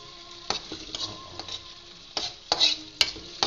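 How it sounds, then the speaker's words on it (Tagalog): Tomatoes sizzle as they are sautéed in a pan, with intermittent scraping stirs and clinks of a utensil against the pan, close and fairly loud. "Gisa na natin ng konti para lumabas yung, oo, lumabas yung aswang."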